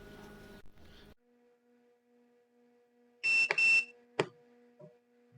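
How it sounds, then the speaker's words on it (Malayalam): A 60-egg automatic incubator gives a short, loud electronic beep, with a faint steady hum and a few clicks around it. "ഒരു ബീപ്പ് സൗണ്ട് കേട്ടതിന് ശേഷം ഇൻക്യുബേറ്ററിൻ്റെ മോട്ടർ കറങ്ങുന്നതായിട്ട് കാണാൻ കഴിയും"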